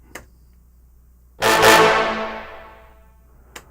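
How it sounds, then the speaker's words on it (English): A single brassy synth stab swells in loudly, bright and tense, then slowly decays, framed by two faint clicks before and after. "if I ever need a brass, most likely I'm going to go to a sound like this"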